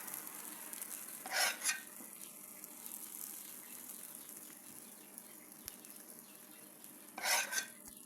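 Honey syrup soaking into a tray of baklava royale makes a faint, close, continuous fizzing crackle, with two brief louder bursts of hiss and no voices.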